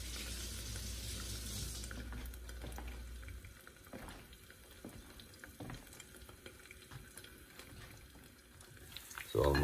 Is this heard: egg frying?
yes